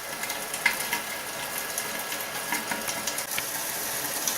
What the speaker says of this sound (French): je vais laisser rissoler comme ça